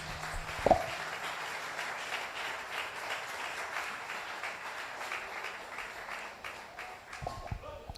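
A church congregation applauds during a Spanish-language sermon, steady broadband clapping running for several seconds at moderate level, with a brief spoken interjection near the start and another voice at the end.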